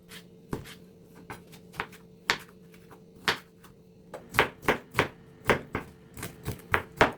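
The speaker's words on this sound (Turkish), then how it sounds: "İlk olarak kapya biberlerimizi ve yeşil biberlerimizi küp küp doğruyoruz." A knife chops red kapia and green peppers into cubes on a cutting board, giving a series of close, sharp taps that start sparse and become a quicker, louder, irregular rhythm.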